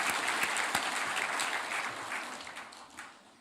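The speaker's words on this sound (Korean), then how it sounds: "다시 한번 우리 큰 박수로 하나님 앞에 함께 영광을 돌리겠습니다" A congregation at a Korean Sunday church service breaks into loud applause, a thick crackle of many clapping hands that holds strong and then tapers off toward the end.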